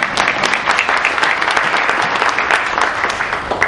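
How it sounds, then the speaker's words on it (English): A commencement audience breaks into steady, dense applause that carries evenly from start to finish at full volume, with many hands clapping together and no talking. "somebody's clapping so we can clap"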